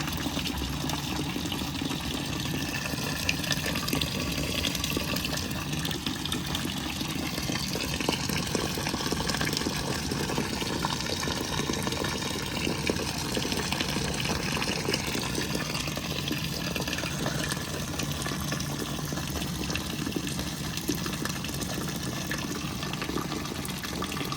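An automatic water feeder fills a steam boiler with a steady, continuous rush of flowing water and a faint pump hum, even and unbroken from start to finish, with no one speaking.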